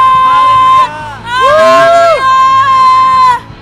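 Church congregation at a Sunday service cheering, shouting and whooping in a loud burst over sustained music, with a voice calling out before and after the crowd swell.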